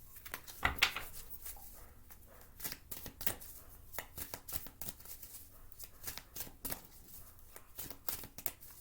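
Playing cards being shuffled by hand, close crisp riffles and flicks in uneven bursts, with a louder flurry near the start and lighter shuffling after.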